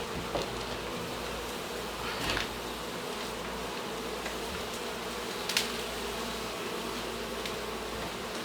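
Honey bees swarm inside a neighbor's wall, a dense, steady buzzing drone close by, with a few brief knocks and scrapes on top.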